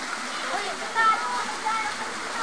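Steady rushing water of Busay Falls in Camarines Sur, a dense continuous hiss with faint voices briefly cutting in above it.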